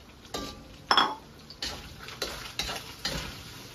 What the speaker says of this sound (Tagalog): Drop na natin yung bawang, butter, saka yung konting mantika.